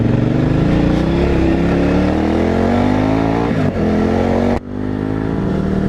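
A KTM 890 Adventure R motorcycle engine with a factory Akrapovic exhaust revs steadily with a deep, throaty note, pitch rising and dipping briefly before settling back into a sustained drone.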